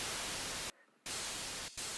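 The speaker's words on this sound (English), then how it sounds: "Some more white noise, like layered." Layered white noise in a music production, a loud, dense broadband hiss that cuts out abruptly twice, once for a longer gap and once for a brief dropout, before resuming at full level.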